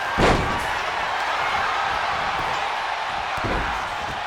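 A big boot kick to the head in WWE 2K25, a single loud slamming thud at the start and a softer impact near the end, over a steady arena crowd murmur.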